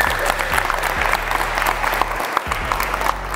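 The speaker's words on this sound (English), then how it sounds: "Give her a big round of applause" Crowd applause at a basketball game, dense and loud throughout, a continuous roar of many hands clapping with occasional sharper claps poking through.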